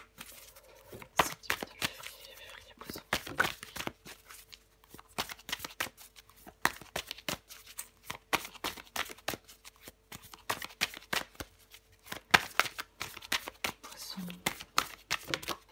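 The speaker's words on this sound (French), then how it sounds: "je prends encore une carte pour vous, les poissons" Tarot cards are shuffled and drawn by hand in a rapid run of papery riffles, flicks and soft slaps, close and fairly quiet, with a low voice speaking at times.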